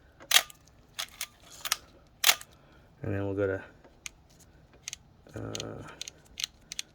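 A Minolta X-370 film camera's shutter fires repeatedly at various speeds, giving sharp close clicks, some in quick pairs, while someone speaks briefly between them.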